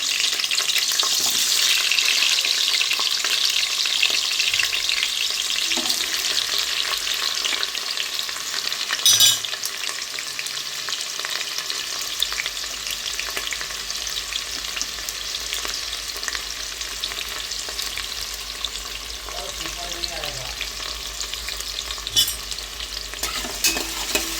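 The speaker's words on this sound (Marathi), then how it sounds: "तेल तापलं की लगेच त्यामध्ये बारीक चिरलेला कांदा घालायचा आहे" Finely chopped onion frying in hot oil, a loud, dense, even sizzle that continues throughout, with a brief clatter near the middle and a few faint utensil sounds later, heard close up with nobody talking.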